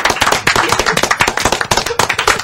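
Audience applause at a 2010 music awards ceremony, a dense crowd clapping loudly and steadily throughout with no one speaking.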